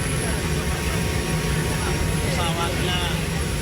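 Inside an Indonesian Air Force plane in flight, the engines make a loud, constant drone and whine that fills the cabin. A voice speaks over the engine noise.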